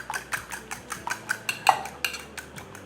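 Eggs with salt and seasoning are beaten briskly in a bowl, a quick rhythmic run of close, bright clinks as the utensil strikes the bowl.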